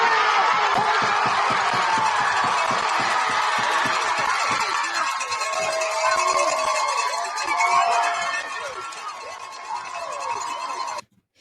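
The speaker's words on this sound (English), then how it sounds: "it's tough to hear because you got the crowd noise" Crowd noise fills a televised game, a loud continuous roar of voices with rhythmic clapping or stomping underneath, holding steady before cutting off abruptly at the end.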